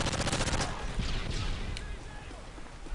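Rapid bursts of video game gunfire in a first-person shooter stream, a fast crackling volley at the start that thins into scattered shots and game noise.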